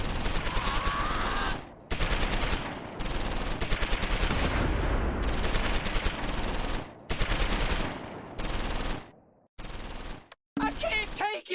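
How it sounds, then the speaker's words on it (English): A half-track lays down machine gun fire in the Close Combat 4 video game, set in the Battle of the Bulge. Long loud bursts come one after another with short gaps between them, and the final bursts are choppier. "The half-track is suppressing the remnants of 1st Platoon with machine gun fire."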